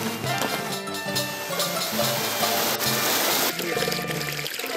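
Spring water runs along the Lycian trail in the Turkish mountains, a dense, close and continuous splashing gurgle that stays loud and steady, with no voices.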